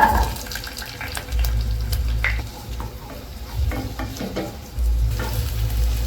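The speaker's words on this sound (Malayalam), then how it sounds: "എണ്ണ ചൂടായിട്ടുണ്ട്, അതിലേക്ക് ഞാൻ കുഞ്ഞുള്ളി ചേർക്കുകയാണ്." Small onions hit hot oil in a pan, giving a steady crackling sizzle with scraping and stirring clatter, interrupted by brief low rumbles, close and moderately loud with no talking.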